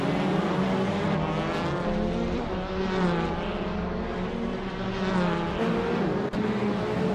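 Race cars lapping Laguna Seca in a racing video game, including a 2008 Volvo, a steady layered engine drone with multiple cars' revving tones overlapping continuously at moderate volume.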